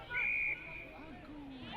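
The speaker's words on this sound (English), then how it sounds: "Mark Green with a big whistle" A referee's whistle at a rugby match gives one loud, sustained shrill blast, clearly heard over the crowd noise and commentary.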